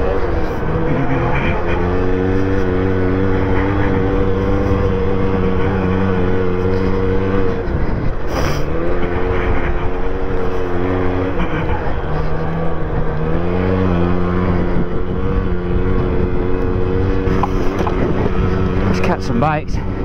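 Moped engines race at a four-hour charity enduro, a loud continuous drone of small two-stroke motors with steady harmonic whine, briefly dipping and rising as bikes pass, voices faintly underneath.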